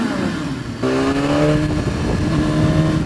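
A 2015 BMW S1000RR sport motorcycle engine revving hard, a loud, close, sustained rising howl with a sharp jump in pitch partway through, alone without talking.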